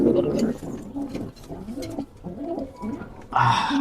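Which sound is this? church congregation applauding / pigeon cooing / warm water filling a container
pigeon cooing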